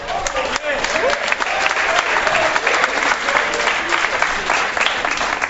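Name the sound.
studio audience applause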